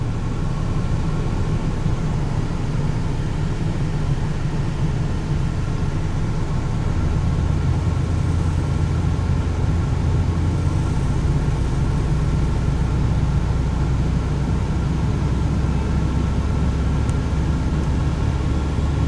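A Toyota T100 pickup engine is slowly brought up to speed after an alternator replacement, giving a steady, loud, continuous drone that builds gradually with no talking.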